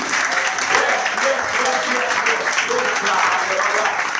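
A church congregation applauding and cheering steadily at a French-language sermon, a dense, sustained wash of clapping from a large crowd.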